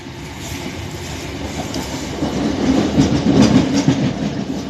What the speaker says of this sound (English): so here we are on our ex-London Overground old train